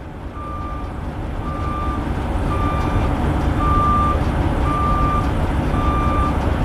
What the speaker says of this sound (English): He has a backup beeper.